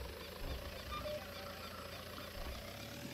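Simulated John Deere tractor engine of 140 hp hauling a disc harrow rated for 180 hp in Farming Simulator 19, a steady rough mechanical drone with low knocking pulses running unbroken throughout.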